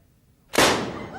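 A revolver fanned during a quickdraw lets off a single sharp blank report after a quiet moment, a loud crack that decays over a fraction of a second.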